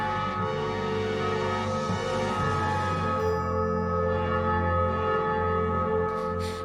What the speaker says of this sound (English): The bell on the 5th night.